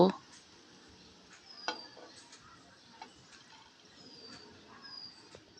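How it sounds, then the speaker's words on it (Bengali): Chopped onions fry in hot oil to become crispy beresta, giving a soft, steady sizzle with faint stirring clicks and light taps against the pan. "পেঁয়াজটাকে আমি এবার বেরেস্তা করে নেব।"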